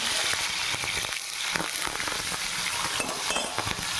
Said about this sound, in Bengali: প্রথমে আমরা উচ্ছেগুলোকে ভেজে নেব